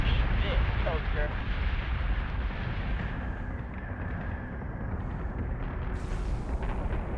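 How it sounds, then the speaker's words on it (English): Sustained flak fire and rumbling explosions in the space battle game Battlestar Galactica Deadlock, a dense continuous roar of booming gunfire with a faint voice briefly over it. "We're taking sustained fire. I need flak reload now."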